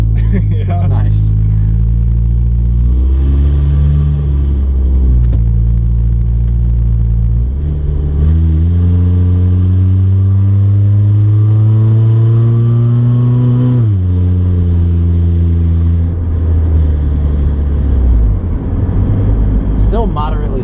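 A car fitted with a new exhaust, heard from inside the cabin as the engine revs climb and drop in long, loud, rumbling sweeps, while people talk over it.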